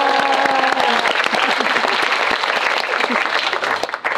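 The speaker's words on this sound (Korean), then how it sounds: "다시 한번 박수!" A cinema audience at a film guest-visit talk session applauds loudly and continuously, dense clapping with sharp individual claps standing out, and a voice briefly heard over it at the start.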